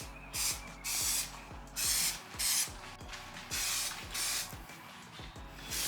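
Spray gun laying down a second paint coat on an R33 Nissan Skyline, heard as a series of loud hissing bursts of roughly half a second each, alternating with brief pauses and a faint rhythmic mechanical ticking underneath.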